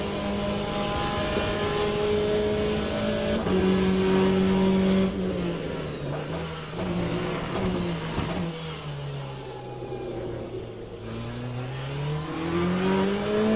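Race car engine in Le Mans Ultimate at Bahrain, loud and continuous, with steady revs dipping and climbing through gear changes and a tonal whine sweeping down and back up, no voices.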